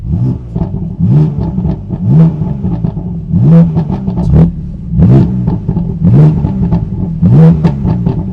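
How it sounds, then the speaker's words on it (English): A BMW M3 fitted with an M Sport exhaust revs in a series of short, punchy blips, about five bursts over several seconds, loud and close with a deep rumble between them and no talking. "we're just gonna do a little baby rev, but I wanna show you guys the M Sport exhaust"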